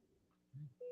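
A phone chimes with a short electronic notification tone, a couple of brief tonal blips rising out of faint room noise, quiet and close.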